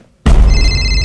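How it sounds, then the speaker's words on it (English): A telephone rings loudly and close after a short silence, a single sustained bell-like ring with bright, steady tones that carry to the end. "Phone, oh crap, that's the phone"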